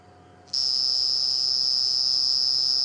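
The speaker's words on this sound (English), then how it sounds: "the sound that you're hearing is a cricket" An insect, a cricket or cicada, starts abruptly and then calls loudly and continuously as a steady high-pitched trill at night on a safari drive in the Djuma Game Reserve, over a faint low background hum.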